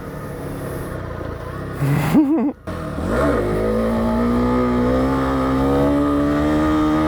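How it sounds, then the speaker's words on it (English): A motorcycle revs and blips through a quick multi-gear downshift in supermoto style, with a short burst of engine pitch changes and then a steady rising engine drone, close and loud, without talk. "Coming up here, do the supermoto thing, right? Drop a couple gears at once."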